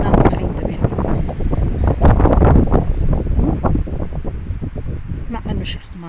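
Strong gusting wind buffets the microphone in a continuous rumbling roar with sharp bursts.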